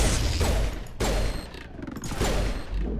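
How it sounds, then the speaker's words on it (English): Pistol gunfire in a video game, with loud sharp shots at the start and again near one and two seconds, separated by ringing tails and steady background game sound. "I want to try out this new pistol."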